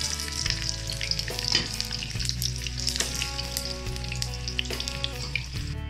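An egg fries in a little oil with a soft continuous sizzle and light crackle, along with occasional stirring scrapes and a steady low hum in the background.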